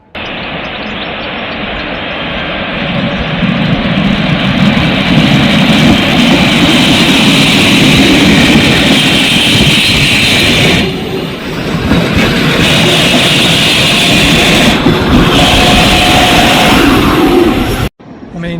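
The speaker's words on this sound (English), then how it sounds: "I can wait and see this train leave." A local train pulls out of a Swiss mountain station bound toward Brig, a steady loud rumble and rolling hum that holds for most of the stretch, briefly dipping mid-way before cutting off near the end.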